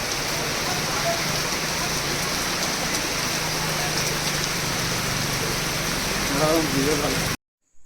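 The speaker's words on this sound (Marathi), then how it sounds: "इथे भरपूर बघा कसला पाऊस पडतो आहे, तुफानी" Heavy monsoon rain pours steadily in a Konkan village, a dense, loud, continuous hiss of downpour that runs unbroken before cutting off abruptly near the end.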